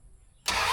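A 1974 Dodge Dart Swinger small-block V8 is cranked and catches, a quiet low starter churn suddenly bursting into a loud, steady engine roar near the end.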